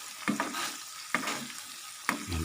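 Seblak seasoning with green sambal fries in a pan, a steady close sizzle broken by three sharp scraping stirs of a utensil.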